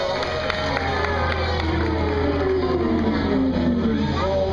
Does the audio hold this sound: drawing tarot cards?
no